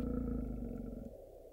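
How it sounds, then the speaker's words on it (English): A brown bear of the tundra gives a deep, rumbling roar, loud and close, holding steady for about a second before tapering into a quieter low growl. "brown bears"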